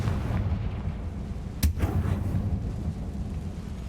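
A Confringo fire spell blast in the Hogwarts Legacy video game: a single sharp, loud burst over a steady rumbling game background, with a short crackling tail fading after the impact.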